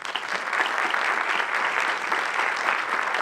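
A live audience at a casting event applauds in honor of an actress, producing a brief, steady burst of dense clapping at moderate distance with no voices over it.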